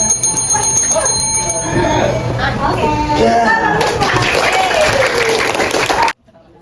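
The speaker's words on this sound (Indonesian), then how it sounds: "ditandai dengan bel yang saya bunyikan" A handbell rings in a classroom to mark the end of a timed writing turn, its bright ringing tone mixed into continuous student chatter and room noise before the sound cuts off abruptly.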